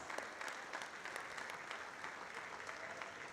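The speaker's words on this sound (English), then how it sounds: "Let's please applaud, ladies and gentlemen, for these amazing dignitaries who've taken time out for us." An audience applauds dignitaries at a university design week inauguration ceremony in Ahmedabad, a continuous soft wash of clapping from a hall crowd, faint and steady throughout with a few louder individual claps.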